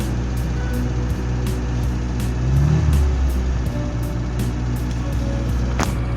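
A Tavria car engine idles with wandering, fluctuating revs and no throttle applied, a steady close-up drone that swells and sags over several seconds.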